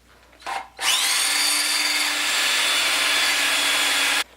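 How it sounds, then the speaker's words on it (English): A power drill whines loudly and steadily into wood for several seconds after a brief rev, drilling holes for a barn sliding door, then stops abruptly. "I'm going to drill 2 holes"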